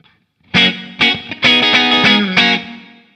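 Distorted electric guitar through an amp simulator with a medium hall room reverb: several loud strummed chords in an uneven rhythm, each ringing into a spacious tail that fades slowly at the end.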